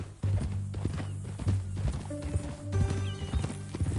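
Horse hooves clip-clop on the ground in Red Dead Redemption 2, a sharp whinny rising near the end over a low, steady background hum; the steps come close and fairly loud in an uneven walking rhythm.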